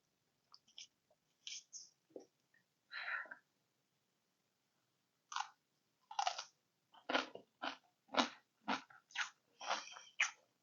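Close, loud crunchy chewing of freshly made, super spicy kimchi: a few bites early on, a pause, then a steady run of about ten sharp crunches in a quick rhythm, with no talking.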